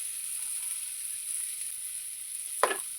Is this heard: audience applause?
no